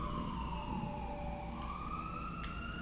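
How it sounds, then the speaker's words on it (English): Ambulance siren passing by outside, a loud wailing tone sliding down then rising again, continuous throughout with no talk. "I'm gonna wait for the ambulance to go by."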